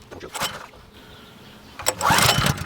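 Small petrol-engined water pump being pull-started by hand, the engine coughing briefly before catching into a loud, steady run with strong broadband noise, no talk over it.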